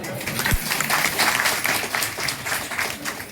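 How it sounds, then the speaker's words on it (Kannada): An audience claps together at a Ganapati immersion gathering, responding to a swami's address; the applause is a dense, steady patter that holds at even strength for about three seconds. "ಹಾಗಾದ್ರೆ ಒಂದ್ಸಲ ಚಪ್ಪಾಳೆ ತಟ್ಟೆ"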